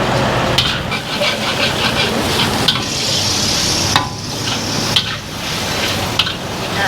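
Flat rice noodles with pork being stir-fried for Thai pad see ew, with a loud, steady sizzle and repeated scraping and clanking strokes of the spatula against the pan throughout.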